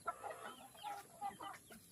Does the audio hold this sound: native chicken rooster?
yes